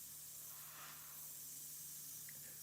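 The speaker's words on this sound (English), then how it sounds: "I'm spraying into the brown a little." Paint hisses from an airbrush in a steady, soft, continuous spray while realistic flames are painted in brown and orange, with no talking.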